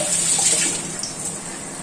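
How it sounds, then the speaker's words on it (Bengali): A short, steady gush of water poured into a cooking pan of ground Kashmiri chilli, garam masala, turmeric and coriander, a close, continuous splashing rush with no one talking. "অল্প একটু জল দিচ্ছি, নাহলে পুড়ে যাবে।"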